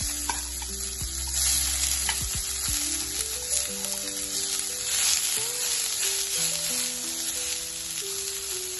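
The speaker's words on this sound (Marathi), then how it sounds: "कांदा आपण एक दोन ते तीन मिनिट छान सोनेरी रंगावरती भाजून घेणार आहे" Onions sizzle and crackle in a hot kadai, frying to golden, with occasional stirring and scraping, while soft background music plays underneath.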